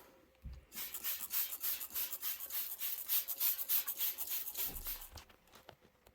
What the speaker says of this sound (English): Then using another towel or a cleaner side of the same towel, I rub the trays dry.